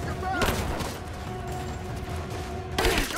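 Enemy gunfire in Rise of the Tomb Raider comes as sharp loud bursts at the start and end, with a quieter stretch of rumbling combat noise and a steady tone between them, and talk mixed in.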